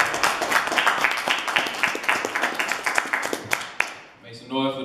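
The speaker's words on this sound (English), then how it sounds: "Make some noise for Jan Flowers." A crowd at an MMA conference claps and applauds loudly in a dense, steady burst that fades out, and then a voice speaks over a microphone.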